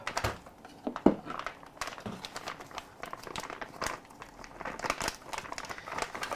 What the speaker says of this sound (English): you might have a very simple plastic bag like that, and it's still sealed. So I'm gonna take my knife, now let's just open that up